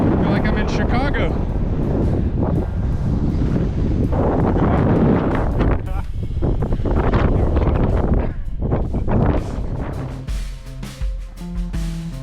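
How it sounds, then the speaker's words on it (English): Strong wind at the summit of Cinder Cone in Lassen National Park buffets the microphone in loud, roaring gusts that rise and fall throughout, with a voice talking briefly under the roar. "it was so windy, and I left the sound in this next clip so you can hear how bad it was"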